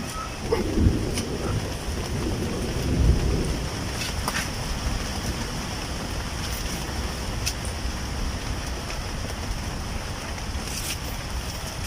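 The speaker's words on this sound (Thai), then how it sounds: "ฟ้าร้องฮึ่มฮึ่มฮึ่มฮึ่ม" Steady rain with a deep, rolling rumble of thunder near a mushroom-growing area in cool weather, two low swells early on fading into a continuous wash of rainfall and wind noise, no voices.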